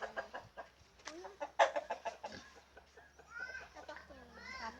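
Chickens cluck and squawk in short bursts on a farm that also keeps a pig and sheep, close and loud, mixed with voices talking nearby.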